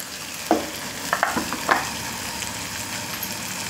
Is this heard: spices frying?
yes